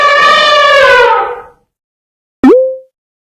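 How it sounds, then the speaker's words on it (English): An elephant trumpets once in a loud, brassy, sustained blare of about a second and a half, then it falls silent before a short bubbly pop sound effect rings out alone. "Elephant."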